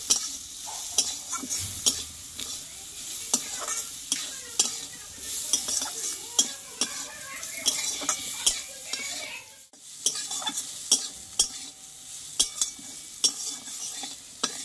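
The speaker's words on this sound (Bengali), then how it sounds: "এই তেলে কিন্তু আলু আর গাজরটা পুরো কষতে গিয়ে নরম হয়ে গেছে" Potato and carrot pieces fry in oil in a pan, with a continuous sizzle broken by repeated scraping stirs and utensil clicks against the pan, one short lull midway; no one speaks.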